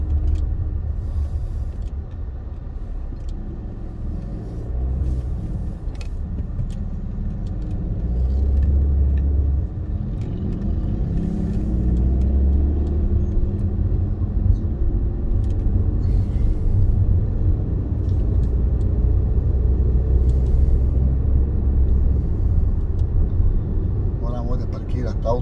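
A car drives through a roundabout, heard from inside as a steady low engine and road rumble that holds throughout, fairly loud and unbroken.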